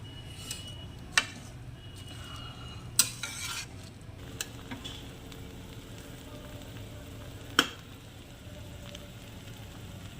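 Pulao being stirred in a wok, with a faint low sizzle running throughout and sharp clinks of the spoon against the pan at scattered moments, close and alone without talk.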